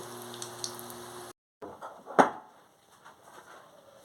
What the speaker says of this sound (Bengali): কড়াইয়ে আর 2টো ডেভিলও বসিয়ে দিয়েছি।